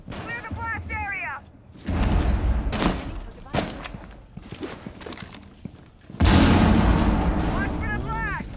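Explosion blasts in the video game Siege 2, several heavy booms and bursts of gunfire with a loud blast near the end, alongside speech and game noise.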